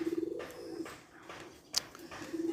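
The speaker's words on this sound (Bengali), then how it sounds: "তো এই ছেড়ে দিলাম কবুতর এগুলা" Pigeons coo close by on a rooftop right after being let out of their loft in the morning. Soft, throaty coo phrases open and close the short stretch, with a brief sharp chirp in between.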